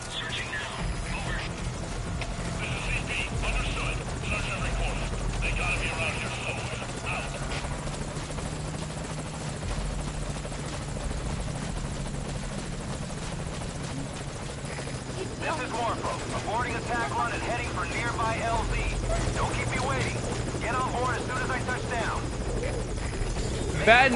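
A helicopter in a shooter video game whirs steadily for the whole stretch, a loud droning rotor wash with buzzing overtones under in-game radio chatter and a player talking.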